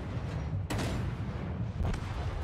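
Main battery guns of a warship in World of Warships fire twice as heavy, booming blasts, each with a sharp onset, over a steady low rumble of the ship.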